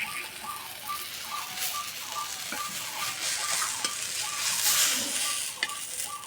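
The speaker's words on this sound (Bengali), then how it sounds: "এই যে ভাজা হচ্ছে, যা সুন্দর একটা গন্ধ বেরিয়েছে।" Ripe mango and flattened rice snack sizzles steadily in a pan, with a continuous frying hiss and occasional light scraping stirs throughout.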